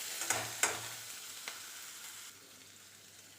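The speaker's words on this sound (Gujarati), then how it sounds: "આદું, મરચાં, લસણ સતળાઈ ગયા છે" Ginger, chili and garlic sauté in an oil-filled pan, giving a steady soft sizzle with a few sharp pops and clicks near the start, close up and fading slightly toward the end, with no voices.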